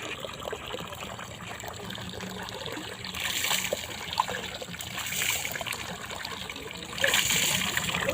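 Water splashing and trickling while a person is being bathed, a steady wet wash with louder surges of pouring partway through and near the end, close by.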